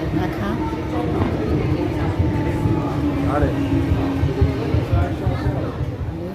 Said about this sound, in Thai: ขบวนรถไฟที่พวกเราจะไปมาแล้วนะคะ รถไฟสองชั้น